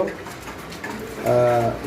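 Brief vocalization of a white pigeon chick, a short tonal coo near the end over faint background noise, close to the listener.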